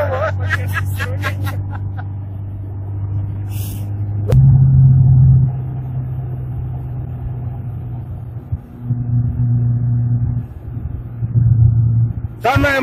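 A VAZ 2106 boosted to over 100 horsepower drives along, its engine droning low and steady from inside the cabin, rising in rumbling surges as it accelerates, with someone talking over it early on.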